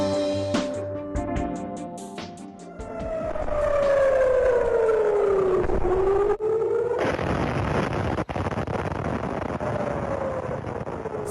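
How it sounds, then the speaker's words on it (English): Air raid sirens wail across Israel during the conflict with Iran, a loud rising and falling civil defense tone that sweeps down and back up, with a second siren joining and distant rumbles underneath. "Sirens have become the soundtrack to life in Israel as the conflict with Iran continues and intensifies"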